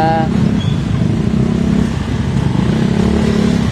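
A motorcycle engine runs steadily nearby with a low, rumbling idle throughout, during a street parade for a basketball league opening game in Binangonan, with voices talking over it.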